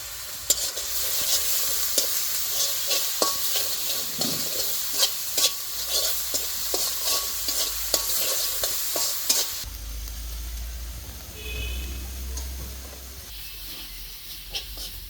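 Spice masala for a prawn malaikari is stirred and fried in a pan, with a continuous loud sizzle and steady scraping strokes close by, the hiss easing slightly partway through.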